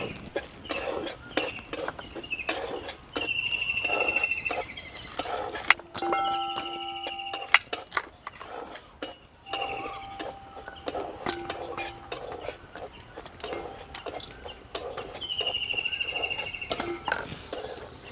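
Semolina being dry-roasted in a pan, with a metal spoon scraping and clinking against the pan in quick, irregular strokes, close and moderately loud, alone without speech.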